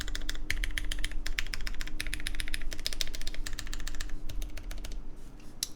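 Rapid keystrokes on a QK Neo80 Cu mechanical keyboard clatter steadily and close up, a dense run of clicky taps with brief pauses and heavier thocks mixed in, alone without talk.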